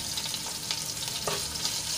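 Green chillies and crushed ginger sauté in hot oil for sabudana khichdi, giving a steady, close frying sizzle with a few soft stirring scrapes and no talk.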